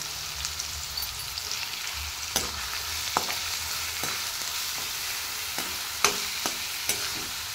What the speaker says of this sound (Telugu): దీనిలోనే కొంచెం పసుపు వేసి కొంచెం రెడ్గా వచ్చే వరకు ఆనియన్స్ ఫ్రై చేయాలి